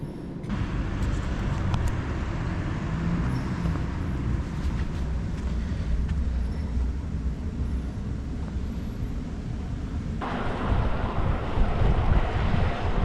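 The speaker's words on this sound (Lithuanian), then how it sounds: "Šiaip tikėjausi, kad vėjas bus labiau aprimęs" Strong wind roars across the microphone in a continuous broadband rush during a gravel bike ride through Lithuania, steady and loud throughout and swelling a little stronger near the end, with no voices.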